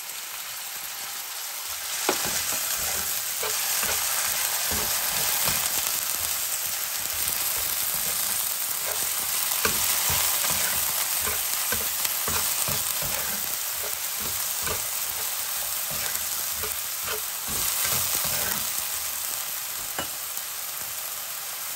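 Onions frying in a pan for a coconut-milk crab dish, a dense, steady sizzle with soft stirring scrapes that runs unbroken and fairly loud for the whole stretch, with no talking.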